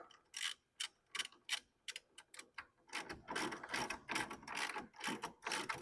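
Ratchet snugging up suspension bolts on an Arctic Cat 400 ATV during a rear CV shaft replacement: bursts of quick clicking strokes, sparse at first and then denser and continuous, close and fairly quiet with no talk.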